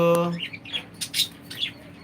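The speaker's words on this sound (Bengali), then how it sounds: "এটা হলো টিয়া পাখি" Newly caged parrot and mynah birds give a quick run of short squawks and chirps close by, after a brief tonal note at the start.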